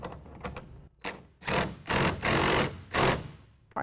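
A tonneau cover clamp is cranked tight on a 2014 Chevy Silverado 1500 truck bed, a series of close, rapid ratcheting bursts of uneven length separated by short pauses.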